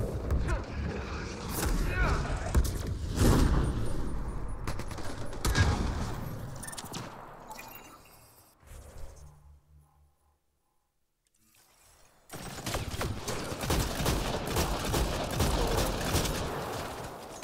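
Shotgun blasts and combat noise from Mass Effect Andromeda come in heavy bursts, drop to near silence mid-fight, then return loud and dense, with occasional talk mixed in.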